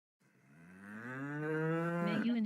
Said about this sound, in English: What was it? Cow?